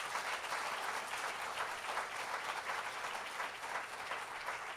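A church congregation claps loudly and continuously, a dense, even roar of many hands that holds without pause, heard at some distance.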